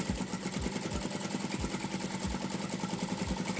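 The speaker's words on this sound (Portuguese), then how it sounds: "eu vou rebater a costura aqui por cima" A sewing machine top-stitches a seam on a fabric multi-purpose basket, its motor whirring steadily with a fast rhythmic needle thump running throughout, close and continuous with no voices.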